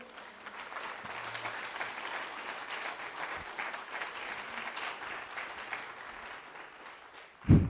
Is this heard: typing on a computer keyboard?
no